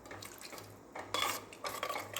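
Water splashes from a vessel into a pot of vegetable kurma in two short bursts, near and clear, over faint kitchen clatter.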